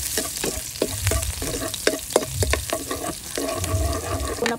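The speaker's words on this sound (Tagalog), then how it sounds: "ayan lalagay po tayo na ng bawang. Ayan kasi mainit na po yung kawali po natin" Garlic frying in a hot pan, a steady crackling sizzle broken by repeated scraping stirs and clacks of a utensil against the pan, close and fairly loud, with no voices.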